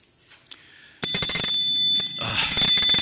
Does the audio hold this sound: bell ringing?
yes